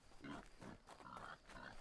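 Pigs grunt in the survival video game Die Young, a series of several short, low, rough grunts in quick succession, faint and fairly close with no talk over them.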